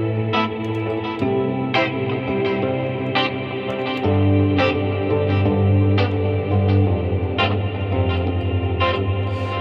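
An Audiofier Riffendium X synthesizer sequence loops in a steady rhythmic pattern, bright plucked notes over sustained tones, washed in reverb and echo.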